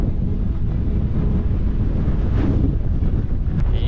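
Strong wind blows hard and without a break, roaring and buffeting the microphone with loud, steady rushing noise for the whole stretch.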